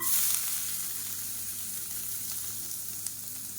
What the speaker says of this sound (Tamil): பூண்டு வறுக்கணும், அதனால் எண்ணெய் விட்டுக்கலாம்.